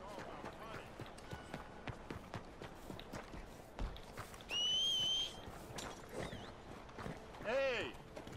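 Hooves and footsteps patter unevenly through the Saint-Denis streets in Red Dead Redemption 2, with two bursts of whistling and a brief whinny-like call over quiet city ambience, and someone talking throughout.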